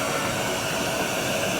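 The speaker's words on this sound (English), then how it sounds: "I'm gonna put the vacuum back on." A vacuum attached to a JOOLTOOL polishing machine runs as a steady, loud broadband whoosh with no change throughout and no voices.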